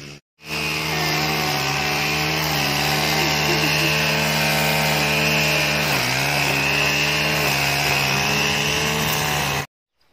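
A mower or string trimmer cuts grass and dandelions in a garden, running as a steady, loud motor drone throughout with a brief dip in pitch midway, then stopping near the end.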